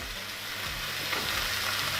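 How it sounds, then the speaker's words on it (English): Loud, steady sizzling and crackling of chicken frying in a hot pan, with a light scrape of stirring partway through. "that's sizzling lovely"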